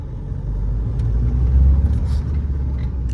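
A Mahindra XUV500 SUV pulls away in second gear after the clutch is released, giving a loud, close, low engine rumble that swells and holds steady with no talk over it.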